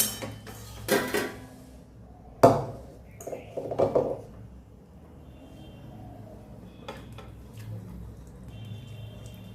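Ghee-cooked patol rasa curry is moved from pot to bowl with a few sharp clinks and scrapes of metal utensils, then a quiet kitchen with faint handling noises.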